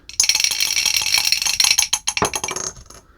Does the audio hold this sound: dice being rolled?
yes